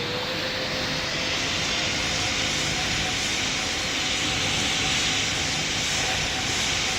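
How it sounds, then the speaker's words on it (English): An airplane in Pilot Training Flight Simulator, a game on a runway, roars on takeoff, a loud, steady engine whine with a slowly rising tone over constant broadband noise, heard alone without talk. "you're clear to take off from runway 10"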